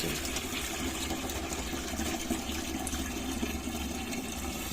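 Homemade liqueur or wine pours steadily out of a jar in a home kitchen, a continuous close trickling and gurgling stream that runs without a break.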